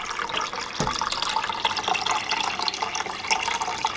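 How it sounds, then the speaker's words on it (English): Tap water pouring steadily into a 4-quart cooking pot in a kitchen, a continuous close splashing rush with small clinks, no voices. "So you're going to top it off with some water."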